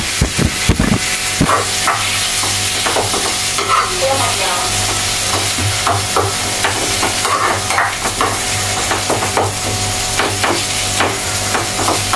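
Tomatoes sauté in a pan with a loud, continuous sizzle, broken by frequent scraping and clinking strokes as a utensil stirs them. Nobody speaks.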